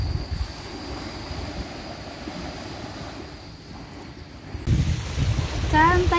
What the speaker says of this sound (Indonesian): deburan ombak di pinggir pantai